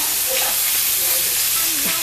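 Butter melting in a pan for country-style biscuits and gravy after sausage, giving a steady, even frying hiss and sizzle that holds throughout with faint bubbling.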